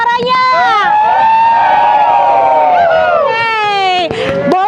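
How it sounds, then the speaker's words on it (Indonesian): Indonesian football supporters chant loudly at close range, a crowd of voices holding long, drawn-out shouted notes that rise and fall together before breaking into a final burst. "kita akan coba cek yel-yel mana supporter Indonesia suaranya"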